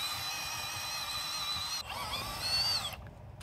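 A cordless earth auger bores a post hole in the ground for a 6x6 post. A continuous high motor whine holds steady, then shifts in pitch as the load changes and cuts off abruptly. The sound is fairly faint, with no speech.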